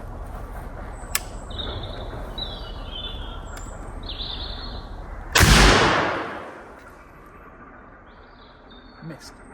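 Black powder percussion cap gun fired in UK woodland: a single loud, sharp blast with a long decaying rumble, preceded by clicks and surrounded by chirping birds.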